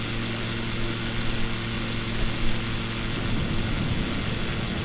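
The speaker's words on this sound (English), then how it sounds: "This is a very, very slow plane." Small, very slow propeller plane in flight into a storm over the Bermuda Triangle, its engine a constant droning hum heard from inside the cabin, steady and moderately loud with no speech.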